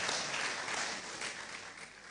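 Steady applause from a university celebration audience, a dense wash of many hands clapping at even loudness, fading slightly toward the end.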